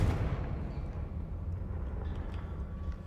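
Confringo spell blast in Hogwarts Legacy, a loud rumbling explosive burst at the start that lingers as a heavy low roar and slowly fades.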